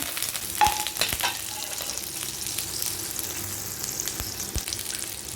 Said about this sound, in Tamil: இப்போ நம்ம ஸ்டவ்வில் கடாய் வச்சு அதில் பட்டர் சேர்த்துக்கலாம்.